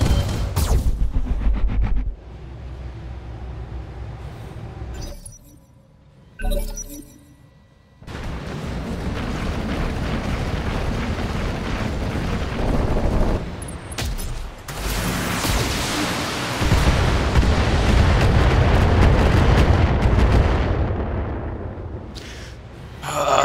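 Mech weapons in a BattleTech game, including extended-range medium and small lasers and an LB-X autocannon, firing at full throttle: heavy bursts and roaring blasts in irregular waves, loud, with brief quieter gaps between volleys.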